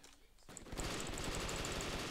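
Rapid automatic gunfire in the shooter game Brick Force, starting after a quiet moment and continuing as a loud, dense burst of shots with bright metallic clicks on top.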